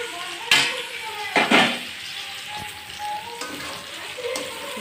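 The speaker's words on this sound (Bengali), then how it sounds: "এগুলো দিয়ে একটু নাড়াচাড়া করে ভেজে নেব" Vegetables sizzle as they fry in a pan for a chicken stew. The steady frying hiss is broken by a few sharp clanks and scrapes of a spoon stirring against the pan.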